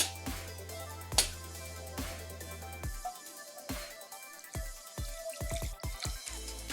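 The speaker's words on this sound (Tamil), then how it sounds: "கொஞ்சம் தண்ணியும் சேர்த்துக்கலாம்." Water drips and splashes into a pot of tamarind rasam with turmeric and salt, a run of separate close drops and small pours, some quick bursts, with no talk.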